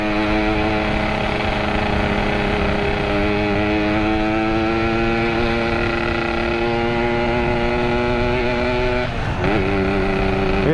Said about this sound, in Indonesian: Itu motornya lumayan jahat juga, itu motornya dia.